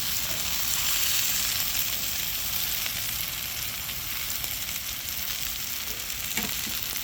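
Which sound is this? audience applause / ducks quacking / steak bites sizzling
steak bites sizzling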